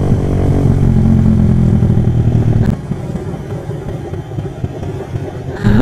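A motorcycle engine revs hard and loud for about three seconds, then drops to a rough, lower idle rumble with a fresh rev rising at the very end, heard close up on a road through a residential area.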